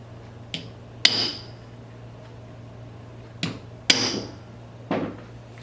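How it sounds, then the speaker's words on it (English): Sharp metallic taps of a hammer and punch driving trigger pins into place ring out one at a time, five strikes spaced irregularly over a low steady hum, each with a brief bright ring. "we're going to tap them into place using our hammer and punch."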